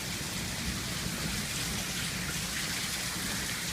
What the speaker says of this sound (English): I love the rain part.